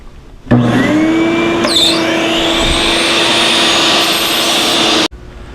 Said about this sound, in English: Now I'm going to cut those strips into 23 1/2 inch lengths.